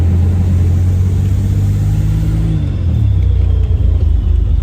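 Buick Grand National car engine on its first drive after a rebuild, a loud steady low rumble that dips and shifts in pitch near the middle as the car changes pace, with no voices.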